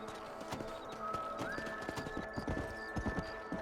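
Horse hooves clip-clopping at a steady trot in the Red Dead Redemption video game, close and fairly loud over a low music bed, with a brief neigh-like tone.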